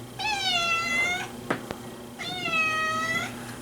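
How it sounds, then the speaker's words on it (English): A house cat meows twice for attention, two long, loud, drawn-out wavering calls close by, separated by a short pause with a soft thump in between. "If I don't do this, she'll just constantly meow, even if I'm making breakfast."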